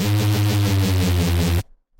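A synthesized neuro reese bass with overdrive, dynamics at the default 50, plays a thick, buzzing, rhythmically pulsing tone for about a second and a half, then stops abruptly into silence.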